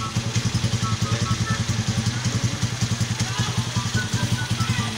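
A 24-year-old Honda TMX 155 motorcycle engine idles close by, its steady low single-cylinder pulses thumping evenly throughout, with voices talking faintly in the background.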